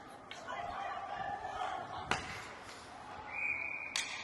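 A referee's whistle at a youth hockey game calling offsides, heard as a short, sharp blast in a rink, with an announcer talking and crowd noise around it.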